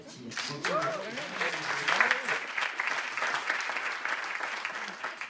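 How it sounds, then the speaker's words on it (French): Audience applause at a social and solidarity economy awards ceremony, a steady wash of clapping with a voice talking over the first half and fading under the claps. "on peut applaudir"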